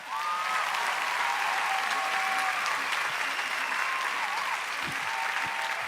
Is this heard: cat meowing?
no